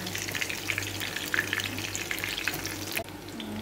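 An eggplant omelette (tortang talong) fries in a little oil in a thick stainless steel pan, crackling and sizzling steadily with small pops before the sound drops off abruptly near the end.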